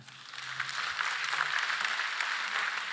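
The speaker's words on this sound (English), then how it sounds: "you can clap for that" Church congregation applauding during a full worship service, a soft, fairly distant wash of steady clapping lasting a few seconds, faint overall.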